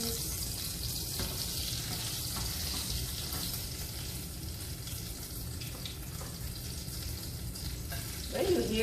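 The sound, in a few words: potato balls frying in oil, water spattering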